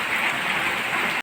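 Steady rain pours down on a flooded spot where flowers have been knocked down, a dense, even hiss lasting throughout with no voices.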